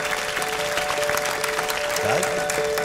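Warm audience applause in a large room, a steady wash of clapping with a faint musical tone and a voice running underneath.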